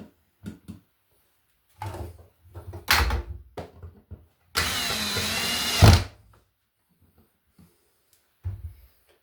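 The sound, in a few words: power screwdriver driving outlet screws into box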